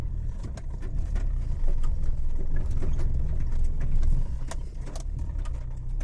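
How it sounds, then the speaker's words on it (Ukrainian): A car crawls in first or second gear along a rough forest track near a village, its low engine rumble steady and close, with intermittent knocks and rattles from the uneven ground throughout. "Тако на першій, другій передачі помаленьку можна собі їхати."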